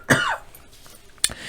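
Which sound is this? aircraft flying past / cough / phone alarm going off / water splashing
cough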